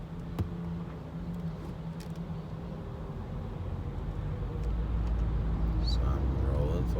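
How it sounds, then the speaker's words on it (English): A car engine idles with a low, steady rumble that grows a little louder and heavier toward the end, while someone talks over it. "My car engine's running"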